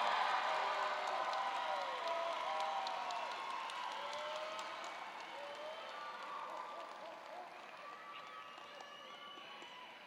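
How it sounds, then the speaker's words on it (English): Belmont High School graduation crowd applauding its graduates, a broad, distant-sounding wash of clapping and murmuring voices that gradually fades over about ten seconds. "can we give one more round of applause for our graduates?"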